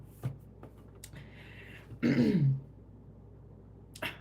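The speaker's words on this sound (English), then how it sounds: "Let me clear my throat." A single rough throat clearing, close and fairly quiet, with a few faint clicks and breaths around it in a still room.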